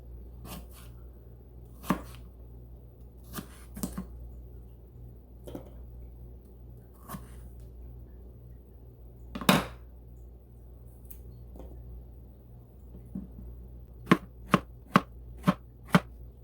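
A knife chops food into little pieces on a cutting board, with sparse isolated knocks spread out at first and then a quick run of five sharp, evenly spaced chops at the end, close and quiet in between.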